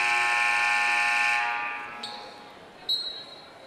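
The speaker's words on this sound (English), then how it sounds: "They appear to have a new buzzer, by the way, here at Winslow, and it will get your attention." A loud, harmonic-rich new gym buzzer blares for about a second and a half at a high school girls' basketball game in Winslow, then fades into crowd murmur with sneaker squeaks following.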